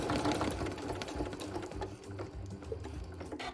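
Sewing machine back stitching around a quilt square, a close continuous rapid mechanical whir and chatter running steadily throughout.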